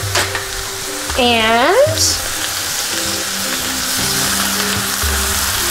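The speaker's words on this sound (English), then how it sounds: "it's simmering." Two pounds of ground beef simmering in a pan, giving a steady close sizzle and bubbling. Voices talk briefly over it and one rising vocal sound is heard.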